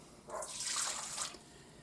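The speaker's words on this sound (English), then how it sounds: "We're going to go ahead and put our water in." Water pouring into a bowl of sourdough bread dough ingredients, a short, close splashing pour lasting about a second, with no talking.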